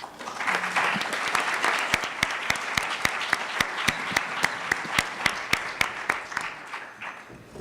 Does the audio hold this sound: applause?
yes